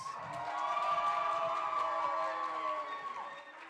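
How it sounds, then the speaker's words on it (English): Crowd at a college Pi Day pie eating contest cheering and shouting for the winner, a loud sustained roar of many voices throughout. "Listen to that crowd go wild."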